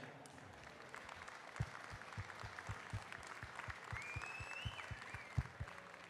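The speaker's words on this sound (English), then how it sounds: "I want a big round of applause for them" An audience at an opening ceremony applauds, a fairly quiet, steady patter of many clapping hands with a few sharper individual claps standing out.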